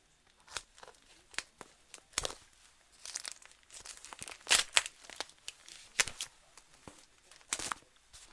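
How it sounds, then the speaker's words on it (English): Packing tape being cut and torn open on a taped-up shipping box, a series of sharp crinkling rips and crackles in irregular bursts, close and fairly loud with brief pauses between. "let's go ahead and take this and cut open the tape"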